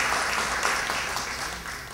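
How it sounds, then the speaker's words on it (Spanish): Dense applause from an audience at an award ceremony in Peru honoring a municipal official, a steady broadband wash of many hands that fades slightly over two seconds. "para quienes pido un fuerte aplauso"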